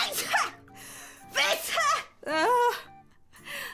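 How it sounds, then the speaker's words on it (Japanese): A voice building up to and letting out loud, strained sneezes, with drawn-out wavering vocal sounds around them and a short vocal sound at the end. "くしゃみ出そう。"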